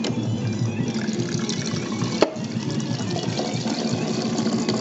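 Water is poured from a bottle into a pot for cooking pasta, a steady, close liquid stream running continuously with one brief knock partway through.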